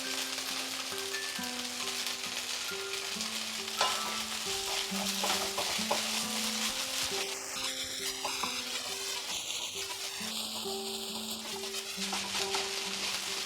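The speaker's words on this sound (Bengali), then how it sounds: "দিয়ে এটাকে একটুখানি নাড়তে নাড়তে আমরা রান্না করব আর কিছুক্ষণ" Oats pulao with chopped coriander leaves stirred and cooked in a pan, a steady low sizzle with scraping spoon strokes throughout, close and alone, with a few brief clinks near the end.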